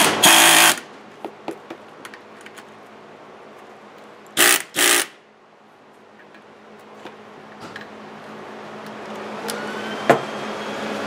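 A tool tightens a starter solenoid on a 40MT starter in two short, loud mechanical bursts, separated by sparse faint ticks and clicks in a quiet room.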